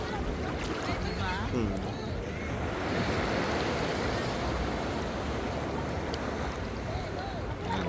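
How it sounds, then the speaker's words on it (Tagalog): Ocean surf on a beach at La Union in the Philippines, with a steady, broadband wash of low, gentle waves lasting throughout, while voices murmur and chatter nearby. "Hindi rin ganoon kataas yung mga alon."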